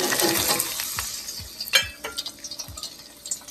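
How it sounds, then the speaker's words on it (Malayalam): Crushed garlic sizzles in hot oil, a steady frying hiss punctuated by soft stirring clicks and scrapes in the pan, close and fairly quiet. "ഒരു ചുള വെളുത്തുള്ളി ചതച്ചെടുത്തതാണ് അത് ഇട്ട് കൊടുക്കാം"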